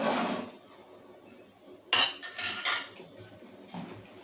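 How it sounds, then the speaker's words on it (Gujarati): Jalebi batter whisked in a bowl, with light metallic clinks and taps of the whisk against the bowl coming in short uneven bursts after a soft opening rustle. "તો આપણે વિસ્કરની મદદથી બરાબર મિક્સ કરી"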